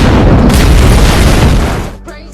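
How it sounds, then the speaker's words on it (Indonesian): A loud, heavy boom of a lamp fuel explosion in the film Homefront bursts out and rumbles for a couple of seconds before cutting off, followed by a brief quieter moment. "lampu yang kemudian meledak hebat yang membuat semuanya terbakar"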